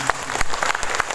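Audience applause in a hall after a lecture on the legal and constitutional history of Miangas island: steady, dense clapping filling the whole moment at moderate loudness, with no speech over it.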